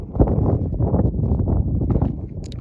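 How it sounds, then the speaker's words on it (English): Wind gusts across the open desert along Tuttle Creek Road near Lone Pine, a steady, loud buffeting rumble over the microphone with no voices. "it's a little windy out here"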